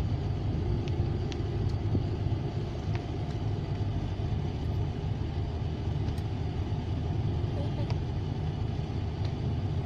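City traffic of assorted cars on La Salle Avenue in Bacolod, a continuous low rumble of passing engines heard from nearby, with faint occasional clicks and no clear talk.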